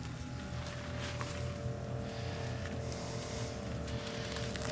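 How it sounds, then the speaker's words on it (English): A pump runs steadily, pushing liquid aircrete mix through a hose and wand, a continuous mechanical drone with a constant hum throughout. "go ahead and just turn the pump on so we just got fluid."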